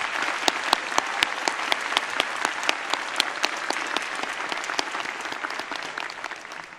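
Audience applause at a South Florida State College Fall 2025 commencement: steady, dense clapping from a large crowd that holds evenly for about seven seconds, with sharper individual claps standing out near the front, before it begins to ease.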